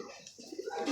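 Pigeons coo softly in a short, close burst of low, rolling throaty calls, with quiet background noise between them.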